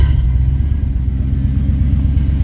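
A 1987 Chevrolet C10 short bed pickup with its tailpipes cut off after the mufflers idles with a loud, deep, steady rumble and a throbbing low pulse, heard close with no talking.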